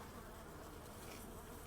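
Honey bees hum steadily inside a winter hive, a faint, even buzz from a cluster gathered in the top box on a fondant patty, with no voices over it.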